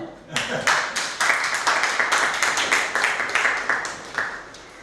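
Steady applause from a group, continuous clapping that holds at an even level throughout.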